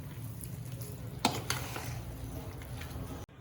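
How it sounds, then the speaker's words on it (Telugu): Hot tempering stirred into a homemade brinjal pickle made with ripe red chillies, giving a steady close sizzling, scraping stir with a sharp metallic clank from the spoon partway through, then an abrupt stop. "సో తాలింపు వేసేసి బాగా మిక్స్ చేసేసుకోవాలండి."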